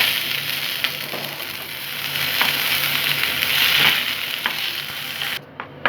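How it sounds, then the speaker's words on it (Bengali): Green peas frying in hot oil in a wok, a steady bright sizzling crackle with occasional stirring scrapes, loud and close, cutting off abruptly at the end. "তেল আমার গরম হয়ে গিয়েছে। আমি এই মটরশুঁটিগুলো দিয়ে একটু ভেজে নিচ্ছি।"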